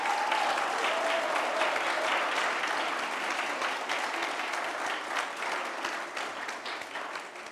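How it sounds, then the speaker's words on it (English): Sustained, steady applause from a sizable lecture audience fills the whole stretch, loud and even before tapering slightly at the end. "Let's give him a round of applause."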